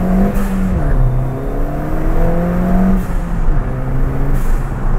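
A Ford Fiesta ST MK7 fitted with an induction kit accelerates hard through the gears, its engine note rising in repeated sweeps with brief dips at shifts and a hiss of turbo blow-off, heard loudly from inside the car.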